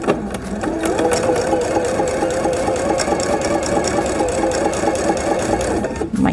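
A sewing machine runs steadily for several seconds, stitching quilt leader fabric with a fast, even mechanical whir and rattle close by, stopping just before the end.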